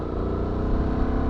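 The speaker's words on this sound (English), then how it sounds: "at first I thought the exhaust sound sucked, but it's actually not bad when you romp on it" A Honda Transalp 750 motorcycle exhaust revs steadily under throttle on an off-road ride, a loud continuous close rumble with no talk.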